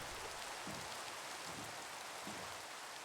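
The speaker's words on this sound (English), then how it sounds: "I am getting so tired of the rain." Rain falling in a video game, a steady, even hiss of heavy downpour that fills the whole clip at constant level, with faint low patters beneath and no talking.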